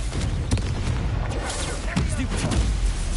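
Leviosa spells and other magic cast in Hogwarts Legacy combat land as a series of sharp booming impacts and whooshes over a few seconds, loud and busy, with a voice speaking through the action.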